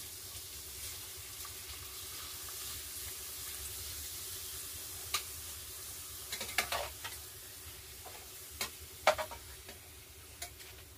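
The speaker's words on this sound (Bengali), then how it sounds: "আমি এই ফার্স্ট পাঁপড় ভাজছি" Papad (poppadoms) fry in oil with a faint, continuous hiss. Sparse crackles and taps grow a little more frequent toward the end.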